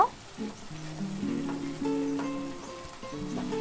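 Masala with black cumin seeds stirred and fried in oil for a Bengali tilapia tel jhal, a steady close sizzle with scraping stirs, heard under faint background music.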